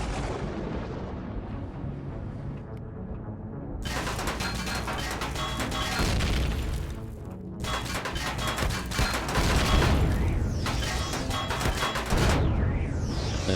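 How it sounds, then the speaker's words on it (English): An X-Corp plasma cannon fires in Empyrion Galactic Survival's Reforged Eden mod, giving loud sustained barrages of booming blasts and crackling impacts in waves, with brief near-silent gaps and no talk. "That's my X-Corp plasma cannon spent."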